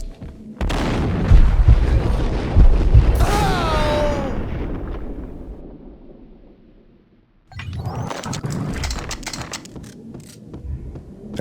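Gunfire and booming impacts from the Max Payne video game ring out in loud bursts, fading into a brief quiet before another round of heavy shots and clatter.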